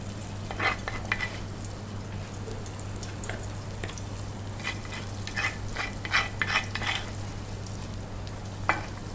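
Beef meatballs (bakso) fry in a pan, giving a soft, continuous sizzle with scattered crackles and stirring scrapes over a low steady hum.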